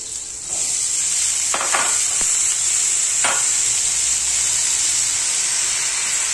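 Potato pieces frying in hot oil for khichdi make a loud, constant sizzle up close, with a few quick stirring clinks early on.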